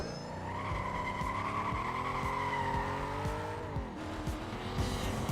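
A Ford GT in a racing video game, its engine holding a steady high drone with shifting pitch while tires squeal and skid continuously, loud and close throughout.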